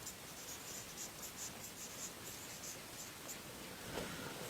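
Pen scratching across paper while a letter is handwritten, a soft continuous rustle with faint repeated strokes, close and quiet, no talking.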